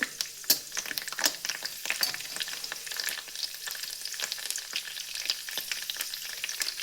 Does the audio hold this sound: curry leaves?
yes